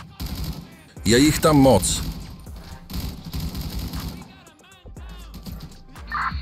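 Automatic weapons firing in the GTA V video game: rapid bursts of loud gunfire separated by short pauses, with someone speaking between the volleys.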